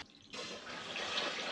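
Water runs steadily into a sailboat's tank through a deck fill hole, a continuous close hissing gush that starts abruptly after a quiet moment and carries on alone.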